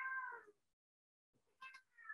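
A cat meows twice, the first a long clear meow close by, then a short gap of silence before a second, shorter meow and a brief trailing cry.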